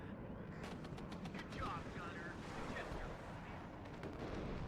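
An F-16 strike hits tanks in the real-time strategy game WARNO, a roar of jet noise and heavy explosive booms with rumbling low end, loud and continuous, with brief whooshing tones overhead.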